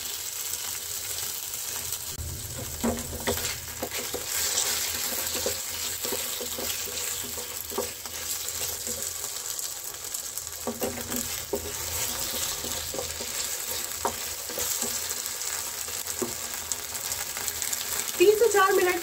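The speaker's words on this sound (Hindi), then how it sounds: "अब हम इसमें डाल देते हैं अपना मैरिनेट किया हुआ चिकन, और इसे अब हमें थोड़ी देर पकाना है।" Marinated chicken cooks in a pan for a street-style chicken Maggi, giving a continuous sizzle broken by intermittent scraping and clacking as it is turned, with a brief louder clatter near the end.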